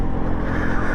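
A Benelli TNT motorcycle engine running at high revs, a dense continuous buzzing roar heard close and loud for a brief moment with no talk over it.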